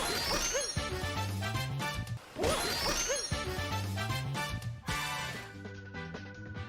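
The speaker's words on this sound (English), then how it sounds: "backflip twice, then cap throw towards the wall with a very precise rhythm" Super Mario Odyssey gameplay with Mario backflipping twice and then throwing his cap at a wall in a precise rhythm, heard as a repeating pattern of sharp jump and cap-throw effects over game music, with no talking.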